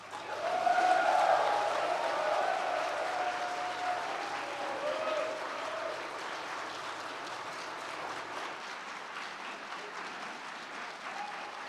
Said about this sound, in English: Another round of applause for Amy Chua